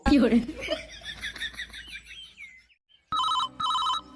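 A ringing telephone in a Bangla cartoon comedy: cartoon-style voices and effects first, then two loud, bright electronic ring bursts separated by a short gap.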